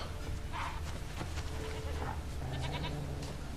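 Goat bleats in The Witcher 3 video game sound at intervals over a steady ambient background, with a couple of short, nasal calls at moderate distance.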